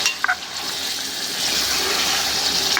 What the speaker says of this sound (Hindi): अब इसमें थोड़ा सा पानी शामिल करेंगे ताकि इसका थोड़ा सा शोरबा बन सके।